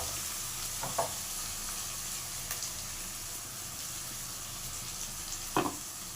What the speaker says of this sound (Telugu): ఇదంతా టమాటా గుజ్జు పచ్చివాసన పోయినాక వేయించుకున్నాము